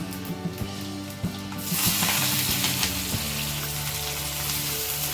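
Chopped onions, green chillies and curry leaves dropped into hot oil, a quiet start that bursts into a loud, steady crackling sizzle with a few clatters, close up and without speech.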